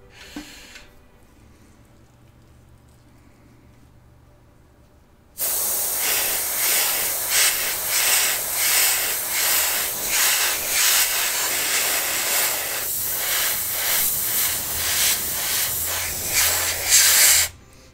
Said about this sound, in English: Now this is what they call a dual action airbrush